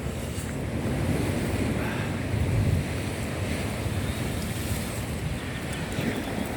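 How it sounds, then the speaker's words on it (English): Choppy sea waves break on Goodrington Sands beach near Paignton on a windy morning. The surf makes a continuous, rushing roar, mixed with gusty wind buffeting the microphone, and no one speaks. "I've not seen the waves so choppy for a while."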